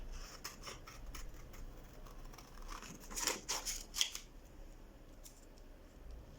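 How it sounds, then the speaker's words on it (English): Scissors snip through a drawn paper brooch shape for a 1920s headband, a handful of crisp close cuts clustered mid-way, quiet and alone against a hushed room. "I'm just going to cut that out with my scissors."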